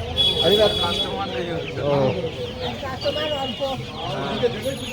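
Australian chickens at a poultry market give a few clucking calls, mostly masked by people talking nearby.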